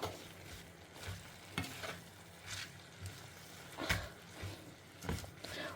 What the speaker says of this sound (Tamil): ஒரு ரெண்டு நிமிஷம் இந்த உப்பில் கீரை வதங்கட்டும்